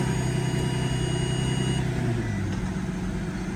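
A Mercedes S600 W221 idles with a steady low engine hum and whine, then the tone drops and shifts as the transmission is put into drive, close and continuous with no talking.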